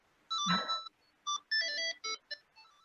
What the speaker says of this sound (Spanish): me están llamando por teléfono